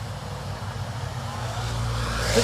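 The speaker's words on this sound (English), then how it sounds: "It's a little early for rush hour, but there's always plenty of traffic here." Steady road traffic flows beside a bridge over the Tiber in Rome's Vatican neighbourhood, a continuous low rumble of cars and engines that swells as a vehicle passes nearby toward the end.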